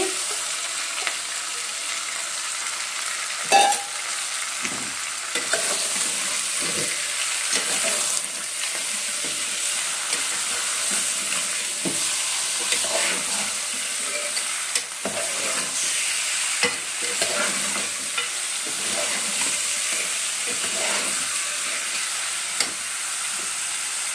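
Mutton pieces frying and sizzling in a pot for dum biryani, a steady hiss with intermittent scraping stirs and clinks, close and moderately loud, no voices.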